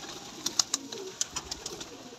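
Several sick pigeons coo softly, with a handful of short calls scattered over a faint background hiss, fairly quiet and close.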